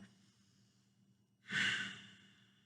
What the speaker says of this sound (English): coming back into that Ujjayi breathing, that deep breath.